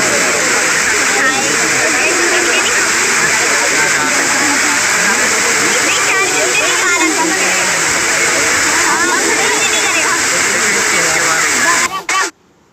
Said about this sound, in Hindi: ये मेन सबसे ऊपर वाला वाटरफॉल है, मतलब जो मेन है।